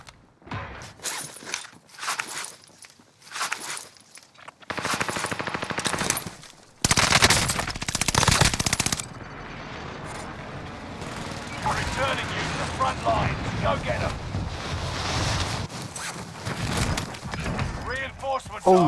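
Rapid bursts of automatic gunfire and single shots in a Call of Duty: Modern Warfare match, loud and close, broken by short pauses, then giving way to steadier battle noise with voices talking over it.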